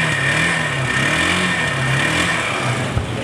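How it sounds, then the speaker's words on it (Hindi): A Yamaha motorcycle engine, just self-started, running steadily at a close, loud idle with a constant mid-pitched hum and no voices. "सेल्फ स्टार्ट में फौरी काम किया, साउंड भी सुना आप दोस्तों ने"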